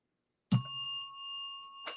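A single bell strikes sharply and then rings on with a long, clear, sustained tone that fades slowly, with a faint second tap near the end; no one speaks.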